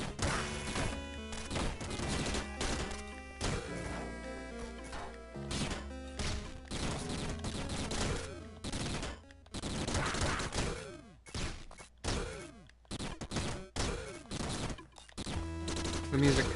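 Rapid bursts of retro gunfire from the Downwell video game crack and rattle in dense volleys, alongside game blips and music that drops out partway through.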